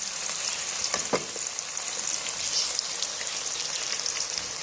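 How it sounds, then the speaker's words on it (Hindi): Chopped onions hit hot oil in a pan and sizzle loudly and continuously, a bright crackling hiss with a few sharper pops and a stir, no voices. "ऑयल गर्म हो गया, इसमें अब डाल रहे हैं हम प्याज"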